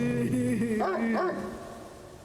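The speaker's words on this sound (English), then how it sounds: "A dog is whining like it's afraid of something." A frightened dog in the video game Spirit Hunter NG whines in a few rising and falling whimpers, close and clear, fading out at the end.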